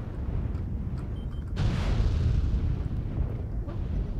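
Mech weapons firing and explosions in MechWarrior Online, a burst of booming blasts with a sharp onset midway, rumbling on at moderate level after a few lighter impacts.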